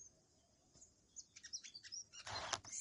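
A babbler trying to nest in a coconut shell gives a few faint, high chirps, then a short burst of louder, harsher calls near the end against quiet outdoor background.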